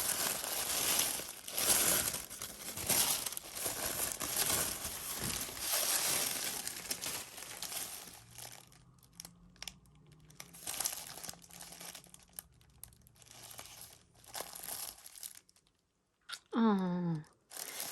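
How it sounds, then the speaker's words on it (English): Tissue paper being unwrapped from a package: close, loud crinkling and rustling in bursts that thin into quieter handling, then a brief voiced exclamation near the end. "let's open up our tissue paper"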